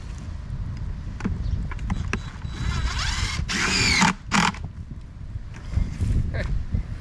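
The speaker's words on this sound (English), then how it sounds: "I'll screw this bucket in place below it so it stays." A power drill drives screws to fix a bucket in place on a homestead, outdoors: short whirring bursts that rise in pitch, clustered near the middle, over wind and background noise.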